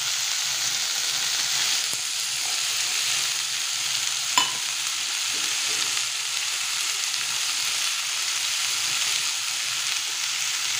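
Vegetables and green peas sauté in a pan for vegetable rice, giving a steady, close hiss of frying with an occasional faint clink of stirring throughout, no voices.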